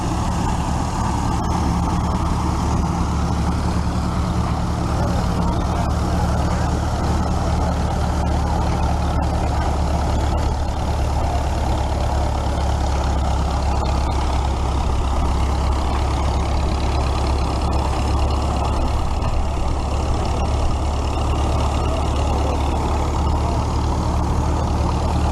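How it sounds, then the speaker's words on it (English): An early 1941 Case SC center-exhaust tractor engine runs steadily at an outdoor threshers reunion in Rollag, Minnesota, a loud, continuous low rumble with a constant drone and no pauses throughout. "this is a very early 41 case SC center exhaust"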